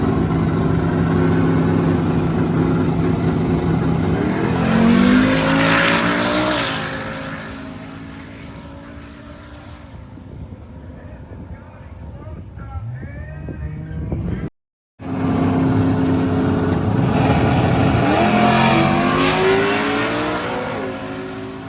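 Drag racing cars, including a Camaro and a Malibu, roar loudly at the Sick Summer drag-and-drive event, with engines revving and sweeping past twice amid a brief dropout between passes.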